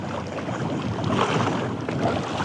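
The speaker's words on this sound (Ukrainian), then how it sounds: "але тут сильний сильний вітер" Strong wind buffets the microphone in a steady roar while fishing, with water sloshing against a boat underneath, no voices.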